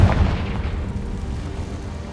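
A Confringo spell blast in Hogwarts Legacy sets off a deep, loud booming explosion at the start, followed by a rumbling low roar that lingers and slowly fades.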